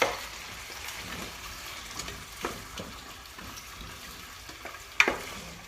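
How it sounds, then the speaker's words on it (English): Beef and vegetable soup (caldo de res) being stirred in a pot, a soft continuous sizzle with scraping spoon strokes and a sharper clink near the end, fairly quiet and close. "Just stir that up."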